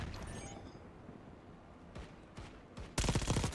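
Gunfire in Black Ops 6 during online multiplayer: scattered shots and bursts, with a loud dense volley of rapid automatic fire near the end.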